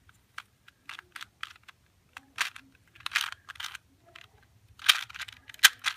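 A 2x2 Rubik's cube is turned repeatedly, giving crisp plastic clicks and clacks in quick irregular bursts, close and fairly loud, with no talking.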